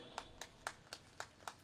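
Faint audience clapping at a Gadchiroli public talk on tribal ashram schools: six separate, evenly spaced claps about a quarter-second apart, slow and steady, with no voices over them.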